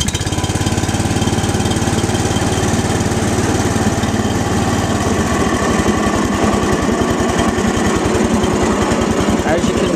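A 1994 MTD riding mower engine cranks and catches, then runs at a loud, steady, close chugging idle throughout, with a fast regular pulse underneath.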